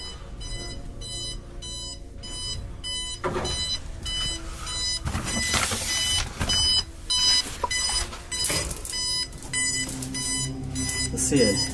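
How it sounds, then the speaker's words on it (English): An electronic alarm in a house beeps in rapid repeating bursts of high tones, steady and moderately loud, while people talk over it. "It's like an alarm."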